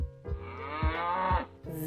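A cow moos once, a long, loud, drawn-out low call standing alone, followed by a brief higher noise at the end.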